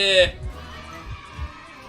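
The heartbeat warning in the video game Identity V gives low, muffled thumps in loose pairs, faint beneath a brief electronic tone and game ambience, while a player talks.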